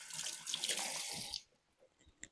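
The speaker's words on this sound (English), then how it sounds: "Rinse my hands real quick." Hands rinsed under a running kitchen tap while cooking a one-pot vegan spaghetti, a steady close rush of water for over a second that cuts off abruptly, followed by a few faint clinks and small handling noises.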